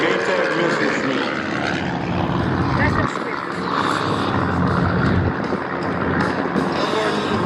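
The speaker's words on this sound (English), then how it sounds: "That's a PT-22 flapping away." A small PT-22 propeller plane drones steadily overhead at an air show, its engine hum loud and continuous, with someone talking over it.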